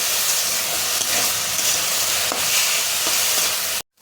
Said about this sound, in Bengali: এগুলোকে ভালো করে এর সঙ্গে মিশিয়ে আলুটাকে আমি রান্না করে নিচ্ছি।